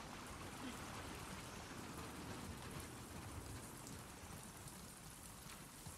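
Rain falls in the video game The Last of Us Part 2 as a soft, steady hiss of drops pattering on surfaces, continuous and even throughout.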